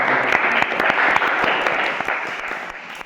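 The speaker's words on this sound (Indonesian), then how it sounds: "Mari kita tepuk tangan untuk para" A podcast audience applauds steadily and loudly throughout, with dense overlapping claps that hold even and then ease slightly toward the end.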